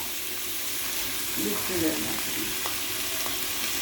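Chicken pieces tumble into a hot pan and fry with a constant hissing sizzle, a brief clatter as they land, steady and close throughout.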